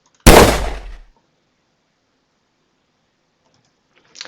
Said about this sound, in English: So as you see, the miniboss is shooting